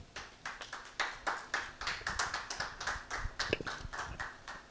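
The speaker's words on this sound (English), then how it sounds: "A round of applause for Tommy J." A sparse, fairly faint round of clapping from a small audience at a talent competition show, with distinct individual claps at an uneven rhythm.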